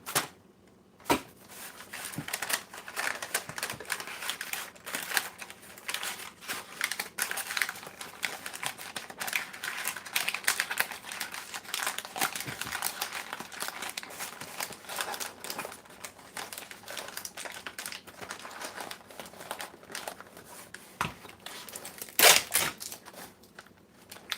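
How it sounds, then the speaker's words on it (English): Sticky tape crinkling and ripping against paper while gift bags are prepped, with continuous crackly rustling and scattered sharp tearing bursts running throughout, close and fairly quiet. "And I put my good tape in there, and now it's tearing up my paper."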